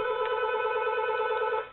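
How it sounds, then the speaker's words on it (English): A telephone rings with a steady electronic tone, fairly faint and unbroken for under two seconds, heard alone. "Got a phone ringing."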